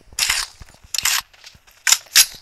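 Gunfire in a video game crackles in four short sharp bursts spaced unevenly, loud and close, with no talking.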